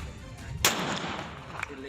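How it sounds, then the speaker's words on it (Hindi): Celebratory shots fired into the air by a state legislator from newly bought weapons, with supporters gathered around: one sharp, loud bang with a short echoing tail, then a fainter, smaller crack a second later, over a steady background murmur. "फिर उन्हीं हथियारों से उन्होंने जमकर फायरिंग की"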